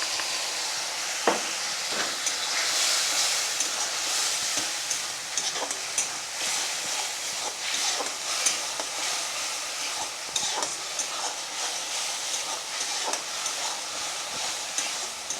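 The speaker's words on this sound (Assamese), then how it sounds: "এইখিনি অকণমান পানীটো মৰি আহিছে আৰু ভজা হৈ আহিছে" Meat frying in a pan with ginger, garlic and tomato, a steady close sizzle with occasional stirring scrapes and clinks running throughout, no voices.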